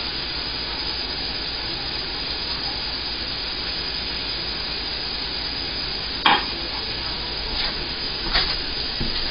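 Onions and mushrooms sizzle steadily in a pan for chorizo-stuffed mushrooms, a constant close frying hiss with a few brief clinks and scrapes near the end, no talk.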